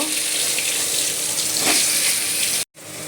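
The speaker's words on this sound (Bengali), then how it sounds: "এই আলুগুলোকে ভেজে নেব।" Potatoes fry in hot soybean oil for a vegetarian soybean dish, making a steady, close hiss that cuts off abruptly just before the end.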